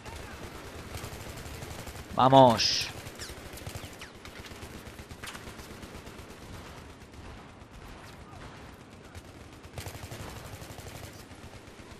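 Gunfire in the shooter game Battlefield 3, a Conquest match on Operation Metro: a short loud burst near the start over a constant busy game mix, with someone talking throughout.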